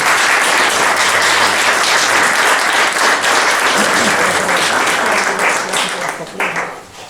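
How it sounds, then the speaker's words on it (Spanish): An audience in a lecture hall applauding a lecturer at a flamenco and copla talk, dense loud clapping that holds steady for several seconds and then thins out and fades near the end, with some voices mixed in. "Un aplauso para él."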